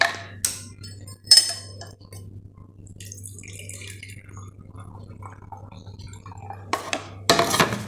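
Kitchen utensils clink and scrape against dishes and glass while lime juice is strained, with sharp metallic knocks at the start and end, a trickle of liquid between, and a faint steady hum behind.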